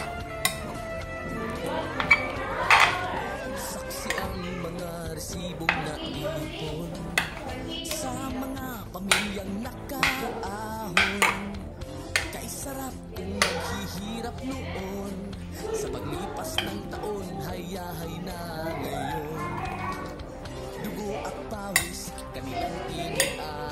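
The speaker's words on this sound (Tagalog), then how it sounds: "nilagay natin yung macaroni. I-mix lang natin ng i-mix" Macaroni stirred in a pot with a metal utensil, scattered clinks and scrapes against the pot over a long stretch, while a person talks throughout.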